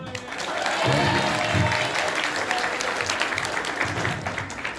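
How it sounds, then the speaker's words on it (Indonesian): Children clapping together at a school Maulid Nabi celebration, a loud burst of group applause that swells and holds, with some voices and crowd noise mixed in. "Tepuk tangan dulu."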